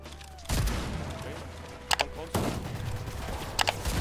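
Gunfire in the video game Unreal rings out in several loud bursts, two longer volleys and a couple of short sharp double shots, close and punchy over a rumbling game background.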